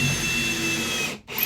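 Ryobi One+ HP RPD18C cordless hammer drill in drill mode boring with a 6 mm bit, a steady loud motor whine held for over a second, then a brief drop as the trigger lets off and a slight restart at the end.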